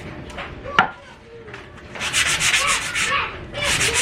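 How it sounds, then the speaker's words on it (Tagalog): Wood is hand-sanded in short back-and-forth rasping strokes, the scratchy rubbing growing louder and more continuous partway through, close to the listener, with a light knock near the start and no talking. "Lihain ko na rin."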